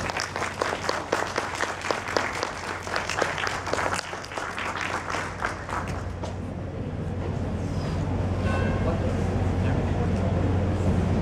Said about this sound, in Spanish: recibimos por favor a nuestros ponentes con fuertes palmas